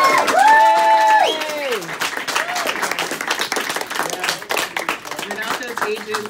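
An audience bursts into applause, dense clapping that swells and carries on for several seconds while a voice with a tonal, sung quality sounds over the start.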